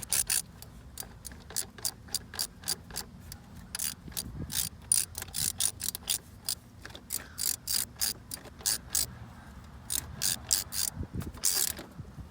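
Socket wrench on a 7 mm square-head bolt during EGR work on a 2005 T1N Sprinter, giving repeated quick ratcheting clicks in short bursts with pauses between, close and clear.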